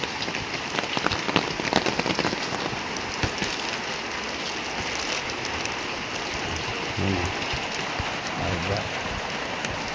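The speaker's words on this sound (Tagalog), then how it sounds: "Ang lakas ng ulan." Heavy rain pours steadily outside a house in Calaca, a dense continuous hiss with scattered louder drops and faint low sounds mixed in.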